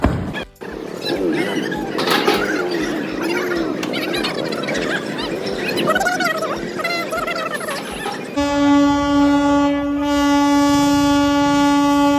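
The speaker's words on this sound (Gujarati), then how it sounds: "અત્યારે ફાટક બંધ છે અને અહીંયા ટ્રેન થોડી ઊભી છે" A train rumbles and clatters loudly nearby at a closed railway crossing, then a long, steady horn blast sounds and holds to the end.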